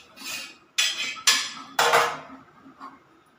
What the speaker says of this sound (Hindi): इसमें तेल डाल देंगे।